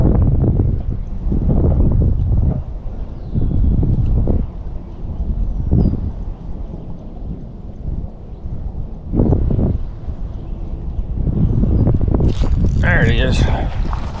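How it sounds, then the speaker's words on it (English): Gusty wind buffets the microphone outdoors during a fishing trip ahead of storms, low roaring bursts rising and falling across the clip, with rustling and a brief higher scrape near the end. "Feel that wind coming now"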